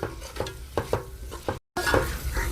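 Mutton sizzles in a pan with gongura leaves for a Hyderabadi-style dum biryani while a spoon stirs it, sending sharp scraping strokes over a steady fry that cuts out for a split second.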